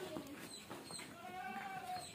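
Goats at a livestock trading farm bleat in a few wavering calls against faint background noise, distant and quiet.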